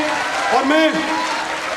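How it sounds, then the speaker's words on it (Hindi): Applause from an audience welcoming two guest speakers at a business leadership event, a rushing wash of clapping beneath a prominent voice that calls out loudly over it. "तो सभी लोग जोरदार तालियों से महागुरुजी दिलीप चौबे सर, महागुरुजी महिपाल सर दोनों का स्वागत करेंगे।"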